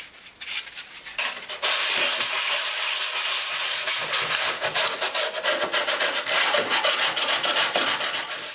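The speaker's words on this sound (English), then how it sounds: "I've got here 120 grade sandpaper and a sanding block. I'm just going to start on this side wall." A 120-grit sandpaper on a sanding block scrubbing a dolls house side wall, close rapid back-and-forth rasping strokes in an even rhythm after a brief tentative start.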